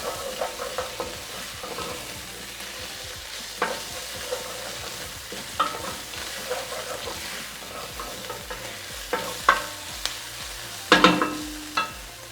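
Tomato paste stirred into ossobuco frying in a pan: a steady sizzle under repeated scraping and clinking of a utensil against the pot, with a sharper clatter near the end.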